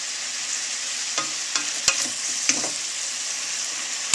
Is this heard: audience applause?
no